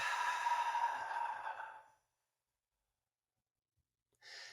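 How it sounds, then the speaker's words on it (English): A long, deep, breathy exhale during guided meditation, close and soft, lasting about two seconds, then silence before another breath begins near the end. "Let's take another nice deep breath here to pull that light back to us. And relax into the exhale."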